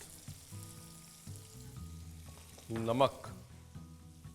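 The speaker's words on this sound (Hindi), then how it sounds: "और इस तेल के अंदर डालनी है टोमेटो प्यूरे।" Tomato puree sizzles and fries in hot oil for a Kashmiri paneer masala, a soft, steady crackle with a brief louder burst of spitting near the end, while someone speaks quietly over it.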